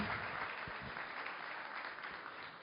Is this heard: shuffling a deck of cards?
no